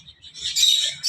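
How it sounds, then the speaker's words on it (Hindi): A pet parrot calls from a cage it shares with lovebirds, finches and budgies, giving a few short, bright chirps that build louder toward the end, with no talking. "और इधर ये पैरोट बैठे हुए हैं, पैरोट भी है हमारे।"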